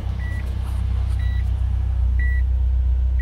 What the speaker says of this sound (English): And obviously the engine's going good too. You can hear that in the background.